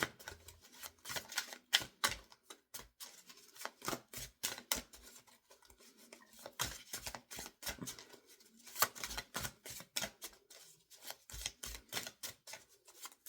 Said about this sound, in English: Still shuffling backwards.